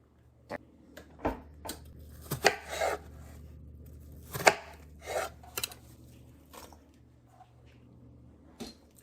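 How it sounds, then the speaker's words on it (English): Apples are chopped on a board for pie filling, with a handful of irregular knife strikes and scraping, moderately close and unhurried against a low steady hum, with no one speaking. "now that we've got our apples all chopped and prepped"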